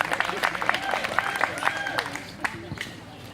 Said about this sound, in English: So everybody give a round of applause for the oldest cousin.